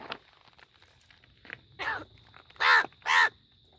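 A crow caws close by, several harsh calls growing louder toward the end, with quiet background in between.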